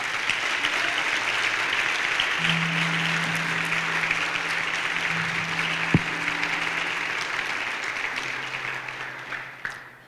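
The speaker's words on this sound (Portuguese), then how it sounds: "Aplauda o Senhor pelo dia." Congregation applauding during a church service, sustained dense clapping from a large crowd for about ten seconds, with a low sustained tone briefly underneath and the applause tapering off at the end.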